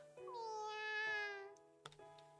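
A kitten meows in the video game You and Me and Her: A Love Story, one long drawn-out meow followed by a couple of short, quieter sounds, with no one talking.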